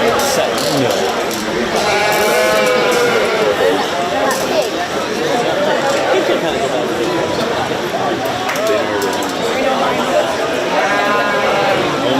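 Sheep bleat repeatedly at a 4-H county fair sheep and goat show, with several overlapping loud calls over constant crowd chatter and an announcer's voice across the whole stretch.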